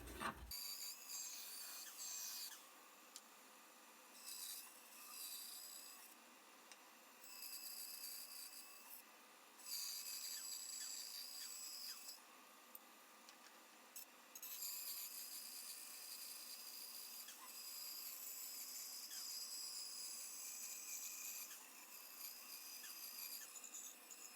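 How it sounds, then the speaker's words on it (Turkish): A hand saw rasps back and forth through wood in steady strokes with a few short pauses, close by and without talk. "Şimdi testere de keseceğim."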